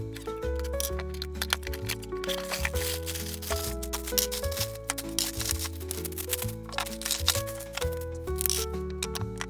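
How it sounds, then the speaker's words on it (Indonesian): A Maximatic Yuji Itadori anime figure is unboxed, with close crinkling plastic, tearing and handling clicks over continuous background music. "Langsung aja kita unboxing mulai dari Itadori Yuji-nya."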